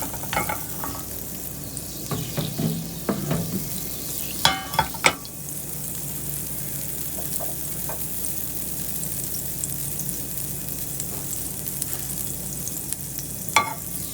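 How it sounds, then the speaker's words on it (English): Asparagus sautéing in butter in a pan, a steady soft sizzle with a few sharp clacks and stirring scrapes early on and one more near the end, no voices heard. "right here we will be sauteing our asparagus"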